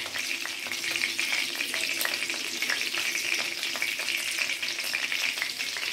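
Cinnamon, cloves, cardamom, a bay leaf and dried chilli crackling in hot oil: a continuous close sizzle dotted with quick popping spatters and occasional stirring scrapes, with no talking.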